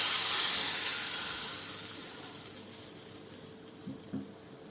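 Hot oil tempering with asafoetida (hing) poured over a vegetable raita, giving a loud hiss at once that fades away over a few seconds, ending with a couple of soft clinks.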